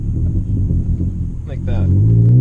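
A manual transmission car downshifts and slows, its engine a low rumble under a man's speech, with the engine note rising and swelling toward the end.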